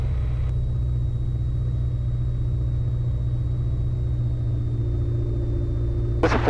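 A 4-cylinder light aircraft engine held at high rpm for a run-up with both magnetos on, a loud, steady droning rumble with a constant tone that continues unbroken, then a brief burst of noise at the very end.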